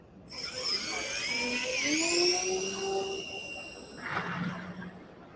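Radio-controlled model aircraft passing overhead at a flying field, a high whining motor tone that rises and bends in pitch as it sweeps past, fairly loud and steady, fading to a rougher rush near the end.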